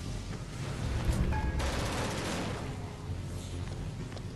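Gunfire and an explosion in the video game Genesis Alpha One, a dense burst of rapid shots with a heavy boom around the middle, loud and close, then a rumbling tail with no talking.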